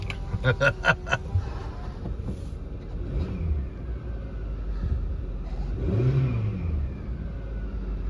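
A 2014 Hyundai Tucson SE AWD with a new factory engine and 136k miles accelerates, its engine note swelling under the cabin hum toward the end, with a few clicks early on and a voice speaking over it.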